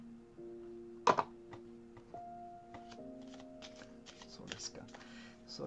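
A deck of tarot cards is shuffled by hand during an angel-energy card reading, with a few crisp riffles and quieter slides and taps over soft sustained tones in a quiet room.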